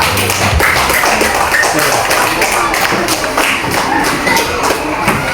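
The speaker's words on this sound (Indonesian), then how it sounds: "mari kita berikan aplaus kepada kelompok 3" A classroom audience applauds a student group at a teacher-certification performance assessment in Palopo, with dense, steady clapping filling the whole stretch and some voices mixed in.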